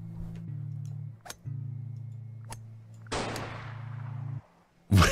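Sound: gunshot from a golf video game

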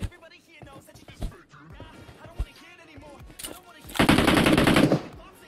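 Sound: gunfire in PUBG Mobile video game

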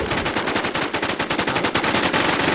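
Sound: gunfire in a video game

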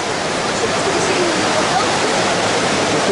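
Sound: fountain splashing at a Sochi shopping mall

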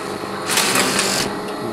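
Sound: flat knitting shoe machine running

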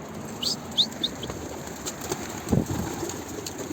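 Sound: pigeon taking off and flying, flapping wings

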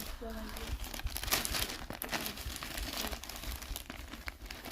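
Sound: plastic shopping bag crinkling

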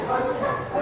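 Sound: puppy barking during off-leash training

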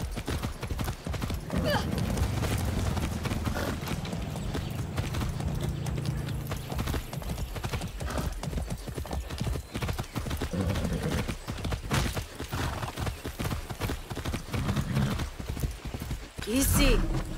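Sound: horse galloping hooves, from a video game

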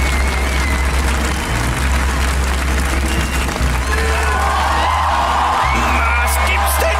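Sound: studio audience cheering for Stefan Raab

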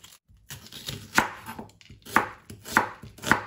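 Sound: chopping onion with knife

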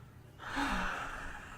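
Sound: deep breathing during a medical examination

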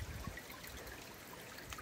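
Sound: water running in a stream, Mahoosuc Notch on the Appalachian Trail

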